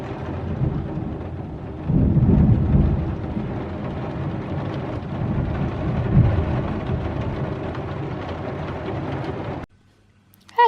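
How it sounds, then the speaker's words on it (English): Rain falls steadily outdoors with a deep rumble swelling around the start and middle, a continuous wash of noise that cuts off abruptly near the end. "oh, rain"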